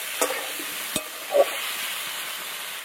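Potatoes with garlic paste and chopped tomato are stirred in a pan over a soft, steady frying hiss, broken by a few faint scrapes and knocks of the spoon.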